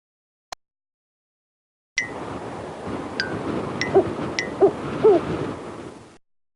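A snowy owl call plays in an educational computer program, a few deep hoots over a soft background hiss, after a brief click, loud and close.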